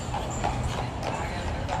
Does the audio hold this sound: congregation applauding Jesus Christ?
no